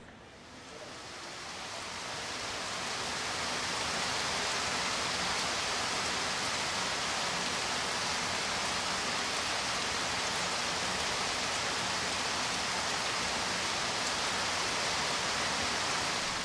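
Heavy tropical rain in hot, humid New Guinea pours steadily. A dense, loud, even roar swells in over the first few seconds and then holds constant, with no voices.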